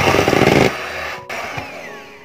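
Electric hand beater whipping cake batter with sugar for a homemade birthday cake, a loud steady motor whir that cuts to a lower running hum partway through, with a brief dropout before it resumes.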